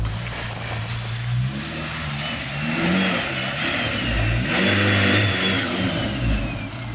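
A Toyota Tacoma pickup with a swapped-in turbocharged 500hp Honda engine and intercooler revs loudly and close by, its pitch climbing and falling in several throttle blips over a steady rumbling idle.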